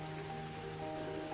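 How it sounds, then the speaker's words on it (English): Rain falls on trees in the woods as a steady, soft patter with a faint continuous hum beneath it, no voices. "it's raining now, but I'm actually just under all the trees."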